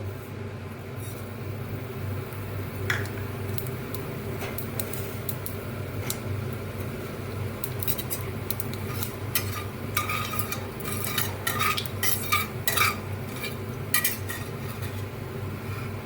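Black cumin seeds tempering in hot oil left from frying katla fish, a steady sizzle under a low rumble, with a few clinks and scrapes of a utensil against the pan.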